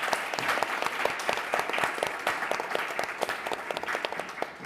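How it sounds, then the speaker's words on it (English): Panel speakers at a nuclear policy event draw applause from the audience, a moderately distant, steady patter of many hands with individual claps standing out, no voices over it. "Let's give a round of applause to our speakers."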